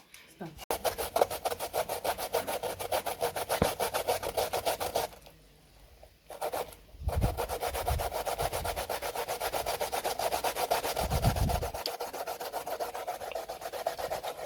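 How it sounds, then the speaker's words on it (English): Sweet potatoes and other ingredients grated by hand for ducana, a fast rhythmic rasping scrape repeating close up, pausing briefly midway, with a few low knocks between strokes. "Are you grating or are you eating, Aiden?"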